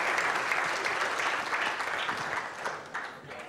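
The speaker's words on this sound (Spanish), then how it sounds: "un aplauso para el amigo" A short stretch of steady audience applause on a comedy show, dense clapping from a studio crowd that tapers slightly toward the end.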